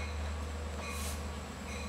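An LIRR train hauled by DM30AC diesel locomotives with bi-level passenger cars rumbles steadily through Mastic-Shirley station, a constant low drone with faint metallic wheel hiss, no voices.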